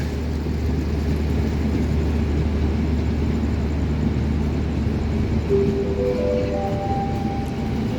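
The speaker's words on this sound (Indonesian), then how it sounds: "kereta api Brawijaya melanjutkan perjalanannya dari stasiun Cirebon tujuan akhir stasiun Malang" Brawijaya passenger train pulling out of Cirebon station, a steady loud low rumble of rolling stock filling the platform, with rising tonal whine from the traction motors joining near the end.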